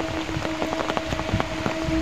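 Heavy rain pours down in a constant dense hiss, with sharper patters of drops striking an umbrella close by, and a faint steady tone runs underneath.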